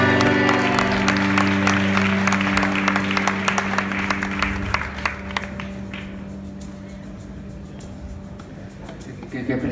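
Concert audience at Joy Eslava applauds with dense, close clapping that gradually thins and softens over about ten seconds, with a sustained tone from the stage underneath.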